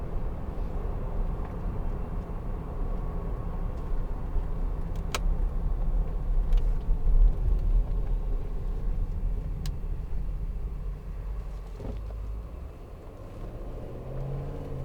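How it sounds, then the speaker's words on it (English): A 2012 Range Rover 4.4 TD V8 diesel engine runs with a steady low rumble throughout, fairly loud and continuous with no talking. "that awesome sounding engine"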